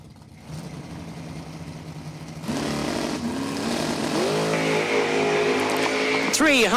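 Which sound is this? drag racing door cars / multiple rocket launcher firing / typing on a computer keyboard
drag racing door cars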